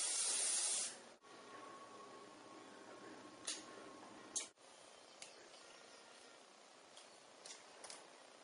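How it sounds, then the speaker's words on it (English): Hairspray sprayed onto hair in a continuous hiss of just under a second, close and loud, followed by quieter handling noises and small clicks. "the first thing I'm going to do is hairspray it before we begin."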